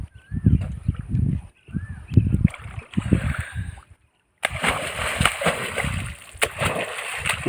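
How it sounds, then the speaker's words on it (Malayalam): In a Bihar village, water splashes and sloshes as hands stir it to catch fish, choppy bursts nearby, with people talking over it. "ഇപ്പോൾ കൈകൊണ്ട് ഇളക്കുകയാണ്."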